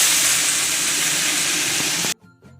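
Greens tossed into hot oil with five-spice in a kadai give a loud, steady, close sizzle that cuts off abruptly near the end, leaving a few faint clinks.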